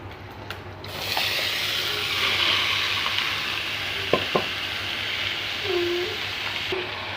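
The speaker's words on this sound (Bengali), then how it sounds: "চাল কুমড়োগুলো দিয়ে এখন নাড়াচাড়া দিয়ে দিচ্ছি" Ash gourd pieces stirred in a pan of fried prawns, a steady broadband frying sizzle with a few scraping spatula knocks near the middle.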